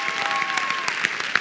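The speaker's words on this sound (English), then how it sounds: "let's give him a nice big round of applause and cheerful welcome" A crowd applauds steadily, many hands clapping in a dense, continuous patter at a fairly loud level throughout.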